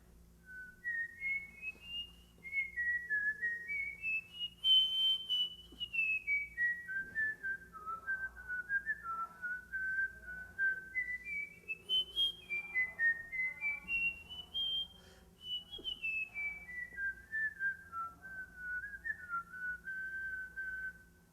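A person whistles a fiddle tune, The Girl I Left Behind, indoors in a library: a clear, steady melody of short notes rising and falling in repeated phrases, fairly quiet and alone.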